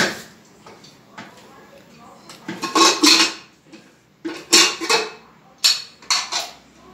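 A pressure cooker lid is opened after a single whistle while spinach cooks for palak paneer: several sharp metallic clanks and rattles come in short bursts, loud and close, with quieter handling noise between them.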